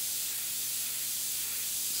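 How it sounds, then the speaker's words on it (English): An airbrush sprays frisket masking fluid onto an artwork, a steady, even hiss of air running continuously at moderate level with no talking over it. "spray on the Frisket a little bit"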